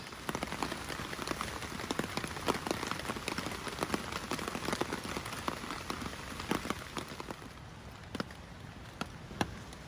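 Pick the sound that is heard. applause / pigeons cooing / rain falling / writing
rain falling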